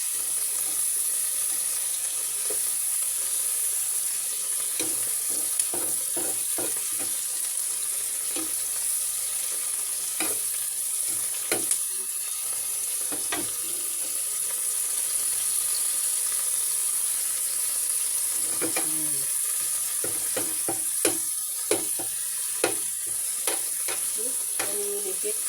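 Chicken pieces sautéing for chicken afritada, a steady loud sizzle and crackle of frying in a pan with scattered clinks and scrapes of stirring throughout, sticking to the pan, no talking.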